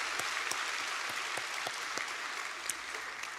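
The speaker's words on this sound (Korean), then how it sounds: "우리 한번 박수로 환영하겠습니다" A congregation at an early-morning church prayer service claps to welcome children, a dense steady patter of many hands at moderate distance, fairly soft and even throughout.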